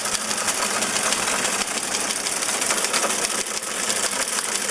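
Vintage teletype machine at a telephone equipment museum in Seattle, clicking away as it types on its own, a dense, steady mechanical chatter of rapid key strikes running continuously at close range.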